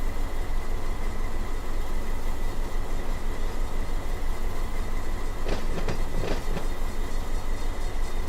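A train locomotive in the Run 8 train simulator game hauls a supply train with a steady, continuous rolling rumble, broken midway by a few brief metallic squeals and clatters.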